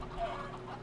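A chicken clucks in a video game, one short cluck over a steady, noisy game background lasting under a second.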